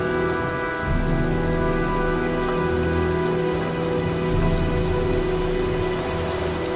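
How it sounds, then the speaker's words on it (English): Heavy rain pours steadily during a storm in the video game Heavy Rain, with a low rumble of thunder beneath it and a sustained tonal hum running through the whole scene. "looks like a storm's coming"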